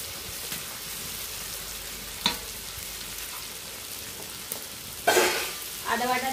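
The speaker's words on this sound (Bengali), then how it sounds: "আদা বাটা দিয়ে আবার মিনিট পাকে কষিয়ে নিচ্ছি" Ginger paste and garlic sautéing in a pan, a soft continuous sizzle with a few sharp spatula scrapes and a louder burst of frying near the end, no one speaking.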